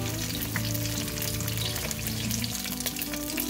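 Pork chops sizzling in a skillet, a dense, steady crackle and spatter of hot fat throughout, close and loud with no talking.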